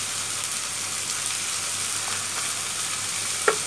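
Chicken skin frying in a pan with chili powder and other ground spices, a steady close sizzle throughout with one brief clink or stir near the end.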